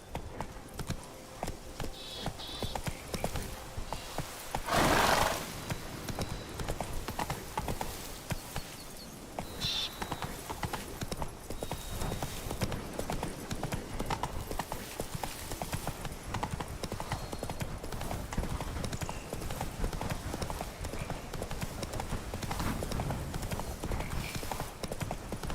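Roach, a horse in The Witcher Wild Hunt video game, gallops with a steady, continuous clip-clop of hooves throughout, with a brief louder burst partway through and a faint voice in the background.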